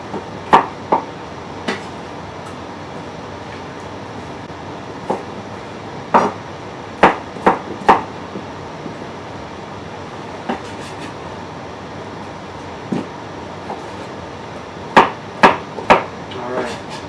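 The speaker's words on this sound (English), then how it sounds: "Alright, we got the potatoes peeled. Now, cut them up. Nothing crazy, just, you know, almost inch squares." Peeled potatoes being cut into rough inch squares, heard as sharp, isolated knife chops on a board, scattered irregularly and fairly close, several in quick clusters, with no talking over them.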